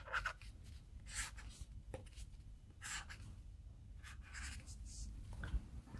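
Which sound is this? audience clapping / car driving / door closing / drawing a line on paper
drawing a line on paper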